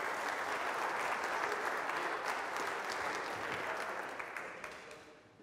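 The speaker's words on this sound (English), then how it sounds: "Big round of applause for the guys" Keynote audience at a lean leadership conference breaking into applause, a dense clatter of many hands clapping that stays strong for several seconds and then tapers away toward the end.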